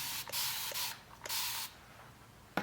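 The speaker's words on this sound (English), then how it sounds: "I'm gonna spray it with some water" A spray bottle hisses in several quick bursts, one after another, close by, spraying water onto chalk-painted fabric, followed by a brief pause and a faint click.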